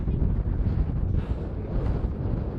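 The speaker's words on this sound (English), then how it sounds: "I don't know if you can hear us because it's so windy." Strong wind gusts across a homestead on a windy day, buffeting the microphone in a steady low roar that drowns out any other sound.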